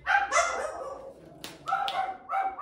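Several dogs barking indoors in short yapping bursts with brief gaps between them, fairly close and moderately loud, with no talking.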